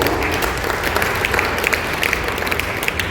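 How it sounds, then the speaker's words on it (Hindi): Loud, dense applause from a crowd gathered for a scouts and guides basic training course, honouring the scouts and guides; sustained clapping fills the whole stretch with no pauses. "तो इनके लिए जोरदार तालियां होनी चाहिए"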